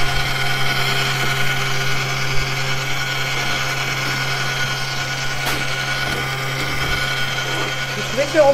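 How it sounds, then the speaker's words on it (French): A fairly noisy stand mixer whisks egg whites at speed, producing a steady, close, high-pitched motor whine with a constant hum underneath and occasional faint clatter. "Le robot est plus bruyant qu'un autre. Celui-là est un petit peu bruyant, oui."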